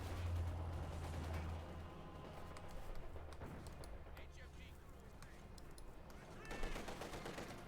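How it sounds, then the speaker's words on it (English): Faint bursts of machine gun fire rattle in a Company of Heroes 2 battle, mixed with other game effects and a commentator talking over them. "A swarm of bullets flying there at Spanky's Panther Grenadiers"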